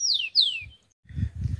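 A young rufous-collared sparrow (tico-tico) sings two clear descending whistled notes close by, followed after a pause by a few low muffled thumps.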